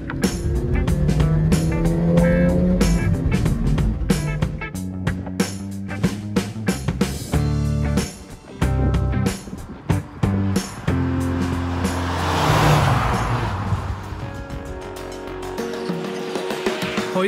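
An Audi Quattro driving in 1980s style, with a loud, sustained engine roar and changing revs that dip briefly before building again.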